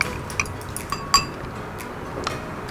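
Dipping sauce with spring onion and raw garlic stirred in a bowl, a few light clinks of a utensil against the dish over a quiet background.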